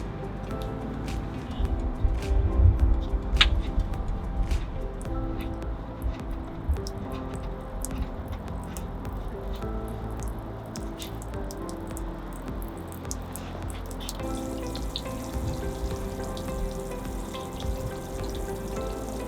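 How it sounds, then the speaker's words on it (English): Water draining out of a travel trailer's water tank, a continuous trickling flow scattered with close, irregular drips and splashes, louder at first and then settling to a steadier patter. "While the water tank is draining"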